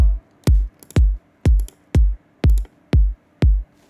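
Kick drum samples auditioned one after another in the Battery drum sampler: eight punchy, deep thumps at a steady, even pace, loud and close with no talk over them.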